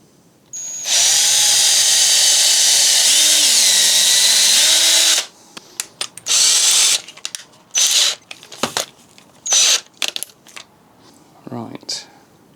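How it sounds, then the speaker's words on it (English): A power drill bores into the bottom of a wooden dining chair under repair, one long steady whine of about four seconds followed by a string of short, sharp bursts and clatter. "now let's drill that bottom one"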